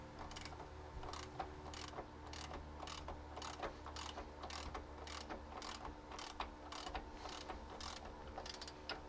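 A socket ratchet working on small bolts holding a car's center console, a steady run of rapid, evenly spaced clicking pawl strokes, close but faint, with no talk.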